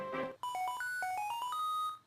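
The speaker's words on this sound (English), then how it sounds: "my transceiver is ringing." A phone-style ringtone from an Xtransceiver in a Pokemon video game, a short rising and falling electronic melody of chiming tones playing alone after a brief burst of game audio.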